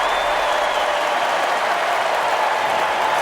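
Arena crowd roaring in an NBA 2K16 basketball game, Atlanta versus Portland in overtime, a dense continuous cheer and applause wash, loud and unbroken with no voices on top.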